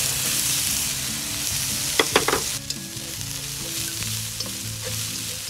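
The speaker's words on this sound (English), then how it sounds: "next we're gonna throw in some green onions" Green onions fry loudly in hot oil for a mackerel dish, a dense continuous sizzle with a burst of sharp clatter and scraping from stirring partway through, no voices.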